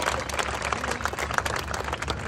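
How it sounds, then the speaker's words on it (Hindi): Crowd applause greeting guests at a public event in a large gathering, a dense continuous patter of many hands clapping at fairly close range, steady for a couple of seconds without talk. "जोरदार तालियों के साथ स्वागत सारे का होना चाहिए।"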